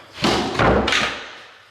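A basement door in an empty house swings shut with a couple of close, heavy thuds and a brief rattle, the sound dying away quickly into quiet room tone.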